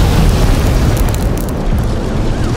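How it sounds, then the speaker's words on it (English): A deep, rumbling boom fills the air on a winter night in a city downtown, a heavy sustained roar with dense low-end noise and no voices, like a large explosion reverberating nearby. "an explosion shakes the streets of downtown Gotham City"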